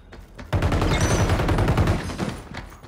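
Sustained, loud automatic gunfire from the P90 and other weapons in the online shooter XDefiant, a dense rapid burst lasting about a second and a half before thinning into scattered shots.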